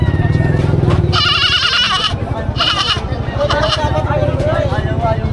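Goats bleat in short wavering cries amid a busy outdoor livestock market background of chatter and an engine's low rumble.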